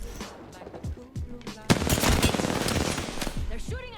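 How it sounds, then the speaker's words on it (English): Gunfire in the Apex Legends video game: quick bursts of automatic weapon shots, sparse at first, then a loud sustained volley from the midpoint on, with game sound effects mixed in. "They're shooting at me."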